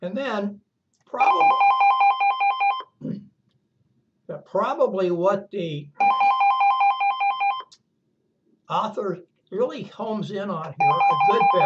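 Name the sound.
telephone ringing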